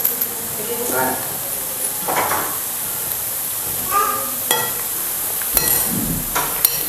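Boondi for laddu frying in hot oil, a steady faint sizzle punctuated by several short bursts of bubbling and clinks of a utensil, heard alone without talk.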